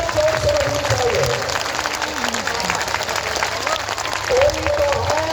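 Loud, dense applause from a big crowd at a Bageshwar Dham padyatra rolls on steadily, swelling near the end, while an amplified voice speaks over the clapping.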